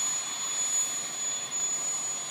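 Model jet turbine engine at an aeromodelling meet, a steady loud high-pitched whine and roar held evenly throughout with no talk.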